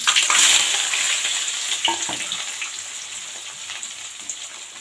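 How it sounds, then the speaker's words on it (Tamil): Onions, garlic and curry leaves hit hot oil in a pan, a loud burst of crackling sizzle up close that gradually settles into a steadier, quieter fry with occasional stirring clicks. "இப்போ நம்ம கட் பண்ணி வச்சுருக்கிற வெங்காயத்தையும் பூண்டு கருவேப்பிலை அப்படியே சேர்த்துடலாம்."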